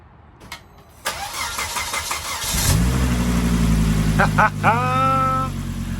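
A Volkswagen Beetle fitted with a BMW engine starts up: a clicking starter crank, then the engine catches and settles into a deep, loud idle with a couple of brief revs near the end.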